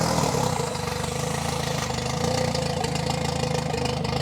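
A Toyota Starlet engine, newly fitted with a TD05 high-mount turbo, runs at a steady idle, loud and close, with a continuous low rumble and faint ticking throughout and no talk.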